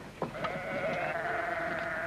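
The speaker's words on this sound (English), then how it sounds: "the skylarks sing and the sheep shout to each other" A sheep on a hill farm lets out a long, wavering bleat, close and clear, after a couple of brief shorter calls at the start.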